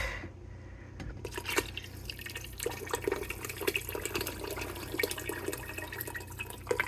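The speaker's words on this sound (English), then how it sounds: "So I'm going to pour this in with the meat." Canned hot tomato sauce pours and splashes onto meat in a pot for tamales, a close, fairly quiet burst of wet glugging and dripping after a short silence.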